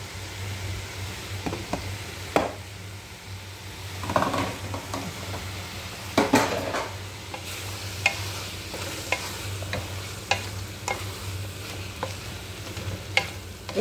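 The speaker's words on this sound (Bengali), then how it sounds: "আলু ছোট ছোট করে কাইটটা তেলে ভাজা নিছি" Small-cut potatoes sizzle steadily in hot oil while a utensil stirs them, scraping and clattering against the pan every second or so, close and fairly loud with no talking.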